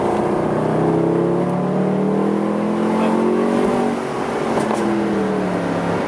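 A Mercedes SLS AMG Roadster engine revs and pulls hard, its pitch climbing through the gears, loud and close, with a brief dip before surging again.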